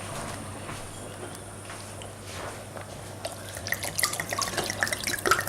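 Red wine is poured into a pan of bolognese sauce, a wet splashing and trickling that builds in the last couple of seconds over a low kitchen hum and soft background noise.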